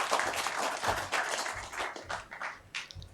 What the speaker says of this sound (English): Please give a big round of applause for Professor No.